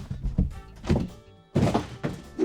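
Cardboard box shoved aside after unpacking a Razor MX500 Dirt Rocket, giving several dull, close thumps and scrapes in irregular bursts, with short quiet gaps between them.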